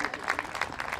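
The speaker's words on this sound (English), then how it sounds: "I would say a big round of applause for the two women here," Brief burst of audience clapping at a literary festival session with two chefs, a short patter of hand claps mixed with crowd noise and a voice.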